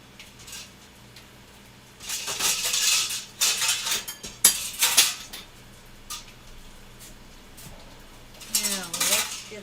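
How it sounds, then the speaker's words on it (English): Metal canning jar lids clink and rattle as they are handled in a kitchen while making cucumber relish, several bursts of bright metallic jangling with quiet gaps between, close by and without talking. "And now I need to get the lids out."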